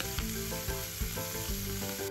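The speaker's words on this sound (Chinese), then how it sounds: "我哋放啲虾落去，用中火煎熟啲虾" Shrimp fry over medium heat in a wok with oil, ginger and scallion, giving a loud, continuous sizzle with a few brief stirring knocks.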